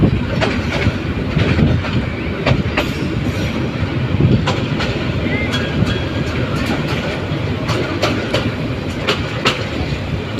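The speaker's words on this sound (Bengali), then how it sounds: "ট্রেনটি তেজগাঁও রেল স্টেশনে এসে প্রবেশ করেছে" A local train rolls into Tejgaon railway station in Dhaka, Bangladesh, with steady loud rumble and rhythmic clickety-clack of wheels over rail joints, punctuated by sharp metallic clanks throughout.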